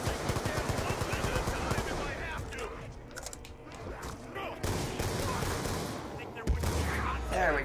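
Rapid automatic gunfire in a zombie shooter video game, loud bursts and steady rattling fire across the whole stretch, with a sharp heavy blast near the end.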